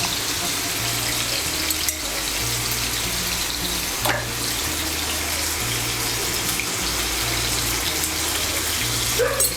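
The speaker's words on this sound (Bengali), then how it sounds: "মিশিয়ে নিয়ে আলুটাকে লাল করে ভেজে নেব।" Potato pieces frying in a pan with turmeric and salt give a steady, dense sizzle, continuous and close throughout, with a faint low musical hum underneath.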